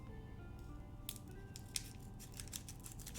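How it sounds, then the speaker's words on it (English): Scissors snip across the top of a Pokemon card pack, giving a few quiet, close, crisp cuts spread over a few seconds. "I'm just gonna cut off the top there."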